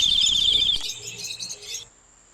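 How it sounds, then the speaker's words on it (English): Bright chirping birdsong from a children's spring story, a dense burst of repeated high tweets that fades out after about two seconds, leaving near silence. "I hear the birds singing."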